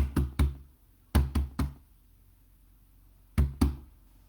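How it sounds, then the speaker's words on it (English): Sharp knocks in three separate groups, two then three then two, hard and close on a wooden surface during a ceremonial rite, with near silence between the groups. "The probationers get up and knock."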